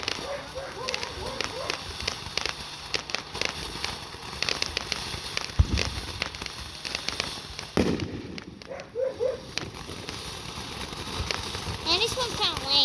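Fourth of July fireworks pop and crackle in rapid, irregular bursts, with a few louder booms among them, while people talk throughout.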